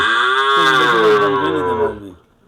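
A single long bull moo at a cattle market, loud and close, holding steady for about two seconds before trailing off into quiet.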